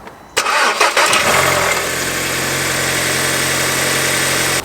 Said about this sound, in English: the 2-litre TFSI petrol engine in this car actually sounds a little bit like a diesel